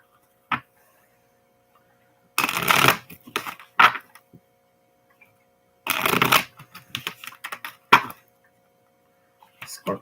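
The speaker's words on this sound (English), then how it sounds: "One more shuffle." Tarot cards are riffled and shuffled in several quick bursts separated by pauses, with small taps and clicks between, close up and crisp.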